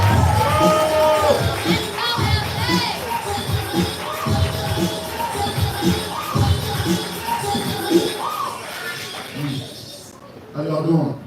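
An audience at a live poetry event claps and cheers for a poet, with scattered whoops and shouts over steady applause and crowd hubbub, fairly loud and close, while a voice speaks over the noise.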